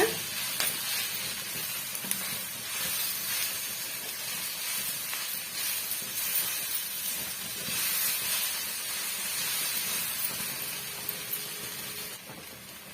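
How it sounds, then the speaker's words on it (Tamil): Drumstick leaf chutney ingredients sauté in a hot pan, giving a soft, continuous sizzle and hiss that runs steadily throughout at a moderate level. "அதையுமே நல்லா வந்து வதக்கி விட்டுடுங்க"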